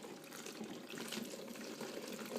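Water from a tap runs steadily into a container, being filled to make homemade laundry detergent; a soft, continuous splashing stream, faint and close, with no talk.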